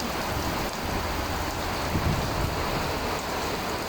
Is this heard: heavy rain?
yes